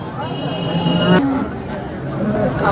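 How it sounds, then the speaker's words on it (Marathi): A farmer's Gir cross cow at the Sangola cattle market gives a loud, close moo amid the crowd's background chatter and voices. "शेतकऱ्याची गाय आहे मित्रांनो"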